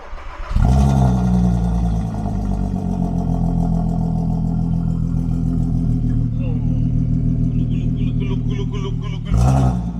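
A Volkswagen Golf 5 R32 engine cranks and catches, rises briefly, then settles into a steady, loud close-up warm-up idle, with a second rev near the end.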